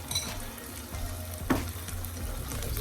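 Sweet and sour sauce hits a hot pan with onion and sweet pepper, giving a steady close frying sizzle with a sharp spatter burst partway through and faint stirring underneath.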